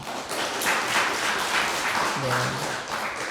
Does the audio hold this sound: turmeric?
no